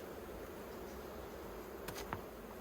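A steady, low hum of honeybees on a hive's queen excluder at close range, with a couple of brief sharper clicks near the end.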